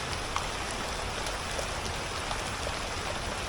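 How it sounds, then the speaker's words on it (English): Steady rain patters down in a dense, even hiss, with scattered drops ticking close by. "we got a rain delay"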